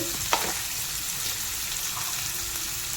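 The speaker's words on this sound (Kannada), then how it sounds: "ನಾನು ಸೊಪ್ಪನ್ನ ಹಾಕ್ತಾಯಿದ್ದೀನಿ ಇವಾಗ ಸೊಪ್ಪನ್ನ ಸೇರಿಸ್ಕೋಬೇಕಾಗುತ್ತೆ" Leafy greens dropped into a hot frying pan for a home-cooked lunch, giving a steady, close crackling sizzle throughout with a brief stirring clatter early on and no talking.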